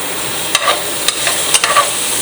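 Onions and garlic frying in a pan for chicken lasagna, a soft continuous sizzle with several sharp stirring scrapes spaced through it, close up and with no talk.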